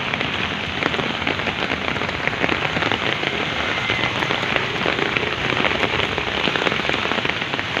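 A downpour of heavy rain drums steadily and loudly on nearby surfaces, a thick wash of spattering drops that never lets up.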